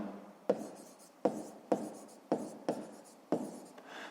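Pen scratching on paper during a fifth-grade math exercise: six short, distinct strokes in an uneven rhythm, close and quiet, each with a sharp onset fading quickly.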